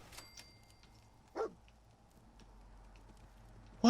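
Dogmeat the dog in Fallout 4 gives two short barks, one early and one at the very end, separated by quiet ambient game hum.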